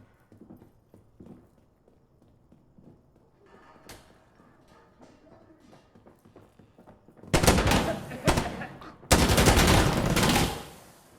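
Artillery barrage and gunfire in the video game Insurgency Sandstorm: after a stretch of faint distant thuds, two loud, sustained bursts of rumbling blasts and rapid shots hit close and hard, filling the last few seconds.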